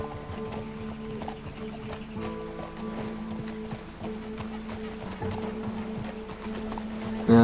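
Horse hooves clip-clop in a steady walking rhythm in Red Dead Redemption 2, over a low, continuous game ambience, with a brief louder thump at the end.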